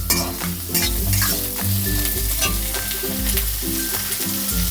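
Ginger and a medium onion sizzle loudly in oil over high gas, with a busy close crackle and frequent scraping stirs against the pan throughout, and no voices.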